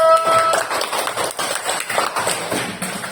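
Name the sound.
class applauding group 1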